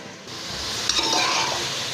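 Onions and tomatoes sauté in hot oil in a pan while being stirred, a steady close sizzle with scraping that starts after a brief quiet moment and carries on evenly.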